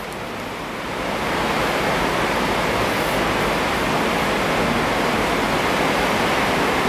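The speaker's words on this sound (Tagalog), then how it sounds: "Ang lakas ng ulan dito." Heavy rain pours down in a steady, dense roar, swelling in the first second and then holding loud and unbroken.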